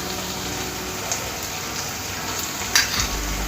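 Cabbage and peas masala with chilli powder and coriander powder frying in a pan, giving a steady, dense hiss throughout, close up, with one brief clink near the end.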